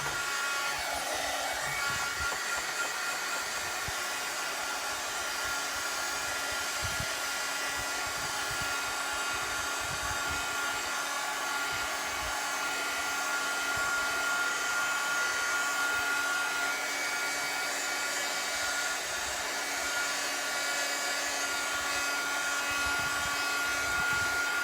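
A hair dryer blows steadily on a napkin transfer during a Dollar Tree craft makeover, giving a continuous close whirring hiss with a faint motor whine that runs unchanged for the whole stretch, with no voices.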